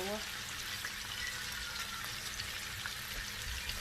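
Onions fry in a pan on the stove, giving a steady, close crackling sizzle that runs without a break, with a voice speaking softly over it.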